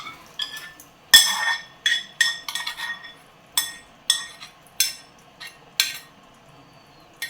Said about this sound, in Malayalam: ഇതും കൂടെ ഒന്ന് ഇളക്കി മിക്സ് ചെയ്ത് കൊടുക്കാം.